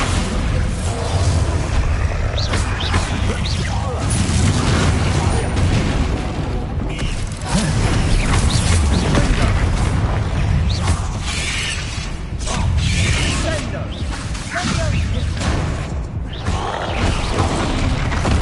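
A Bombarda blast spell fires in Hogwarts Legacy amid a dense, continuous wash of combat effects, crashes and mechanical clatter, loud and sustained throughout with no clear standalone boom.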